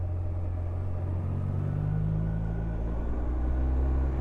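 Steady low engine drone and road rumble from a BMW R1250R motorcycle while riding, constant and close with a slight rise at the end, no voice over it.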